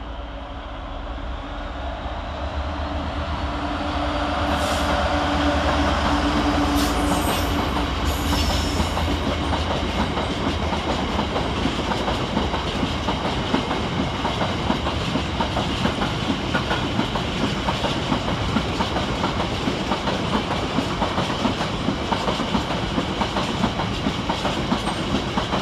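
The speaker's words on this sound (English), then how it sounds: "Running about 68 minutes early at 66-607 again, working 6H51 from Hardledon Quarry to Tunstead Sidings" Class 66 freight locomotive 66-607 on a quarry-to-sidings working rolls through Preston station, a loud, sustained rumble with steady clickety-clack of wagon wheels passing close for a long stretch and a brief hiss early on.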